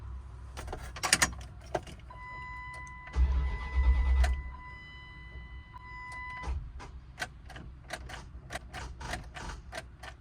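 Old burnout beater car cranking weakly on a dead battery, a sluggish groaning starter heard in separate bursts with clicking and relay ticks between attempts, close by and loud.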